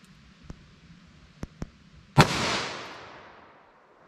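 A single loud, sharp gunshot from a .38 Special +P revolver with a 3-inch barrel, close by, with a long ringing decay after it and a few faint clicks just before.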